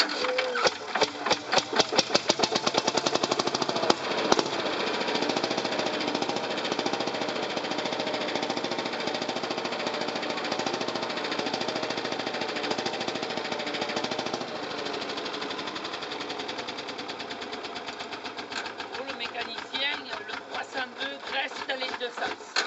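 An MWM-engined D22 vintage tractor runs as it warms up, a loud, steady knocking diesel chug with an uneven rhythm at the start and a brief spike near four seconds.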